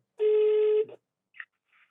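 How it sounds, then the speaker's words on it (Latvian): A telephone call is placed: a single steady ringback tone lasts about half a second, followed by two faint brief blips in an otherwise quiet line. "man liekas, ka mums ir jāzvana tagad Annai Salmiņai"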